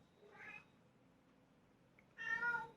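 A house cat meows twice, two fairly close, clear calls separated by a quiet pause, the second louder and longer than the first.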